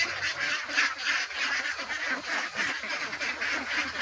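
A flock of pet ducks, about four months old, quack and honk in a busy, continuous chorus close by.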